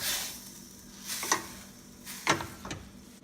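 Glass noodles for Korean japchae being tossed and mixed in a pan, with a faint, steady sizzle broken by a few short scraping stirs.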